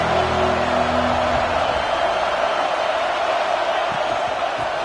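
A big crowd at a college football stadium roars without pause, a dense, loud wash of cheering and noise that holds steady the whole time, with a faint low tone in the background.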